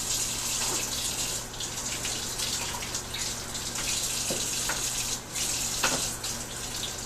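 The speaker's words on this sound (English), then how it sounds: "I'm going to run it under some cool water." Cool tap water runs over a hot PVC bow, a steady and fairly loud flow with faint shifts in the splashing throughout and no voices.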